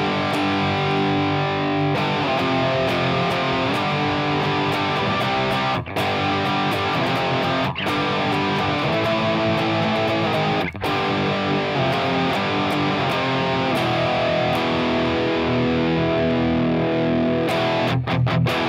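A 2005 Rickenbacker 620 electric guitar in Montezuma Brown played through distortion, with thick sustained chords ringing continuously and a few brief breaks between phrases, loud and alone without talk.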